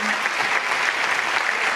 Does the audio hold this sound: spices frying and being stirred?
no